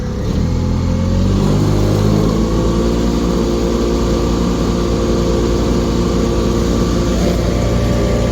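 A Honda 4514 garden tractor engine runs loudly at high speed right nearby, a steady buzzing drone that holds constant throughout.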